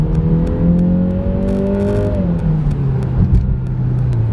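A Genesis GV70 SUV in Sport Plus mode, its 300 horsepower engine and automatic gearbox pulling loudly from close by, the revs climbing, then dropping at a gear change before building again under a steady road roar.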